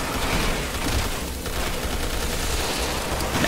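Shotgun fire at swarming bugs in Resident Evil 6 during a submarine escape, a dense continuous barrage of gunfire blasts and noisy combat clatter throughout.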